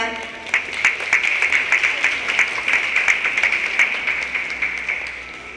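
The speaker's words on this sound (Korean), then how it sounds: "여러분들의 큰 박수로 시작하겠습니다" An audience at a Jeju Special Self-Governing Province council session of a peace forum claps, scattered hand claps over a steady high ringing tone, moderately loud and sustained.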